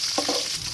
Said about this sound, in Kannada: ಈಗ ಕರಿಬೇವು ಹಾಕಿದ್ದಾರೆ ನೋಡಿ, ಹಸಿಮೆಣಸಿನ್ಕಾಯಿ ಅದು ಸ್ವಲ್ಪ ಒಂದು 30 ಸೆಕೆಂಡ್ಸ್ ಬಾಡಿಸ್ಕೊಂಡ್ರೆ ಸಾಕು